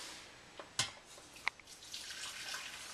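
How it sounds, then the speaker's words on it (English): Chicken stock poured from a carton into a cooking pot for stew, a short quiet trickle and splash preceded by a couple of sharp clicks and knocks, close and soft. "I'm going to just pour a little bit of this stock in here."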